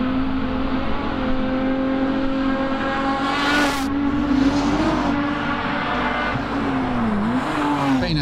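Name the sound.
Mitsubishi Magna racing up a hillclimb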